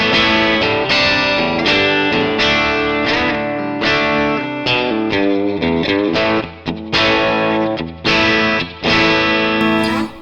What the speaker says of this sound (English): Playing my Bernie Les Paul with P90s, and it sounds like this.